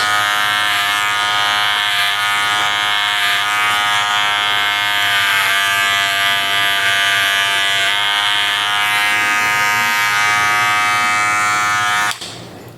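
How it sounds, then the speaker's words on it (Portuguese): An electric hair clipper buzzes loudly and steadily while it cuts hair during a V-shaped fade haircut. The close, continuous hum holds for about twelve seconds and then cuts off abruptly. "Vou passar agora a máquina pro lado de cá também"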